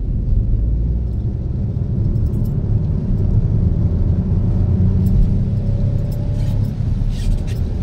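A 2020 Vauxhall Grandland X Elite Nav turbo accelerating hard, foot down, heard from inside as a loud steady low engine rumble with road and tyre roar, building slightly, with no voice over it.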